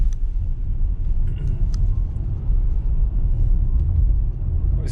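A Tesla driving on Full Self-Driving in Scottsdale, Arizona, picks up speed, with a steady low road rumble and tire noise inside the cabin and a few faint clicks and ticks over the top.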